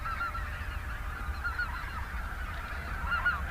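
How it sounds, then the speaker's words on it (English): A large flock of white-fronted and snow geese, thousands strong, in a pasture between two lakes, makes a dense, steady chorus of overlapping honks that carries on without a break from start to finish. "These are white-fronted and snow geese, and they're coming through in the, well, I guess thousands."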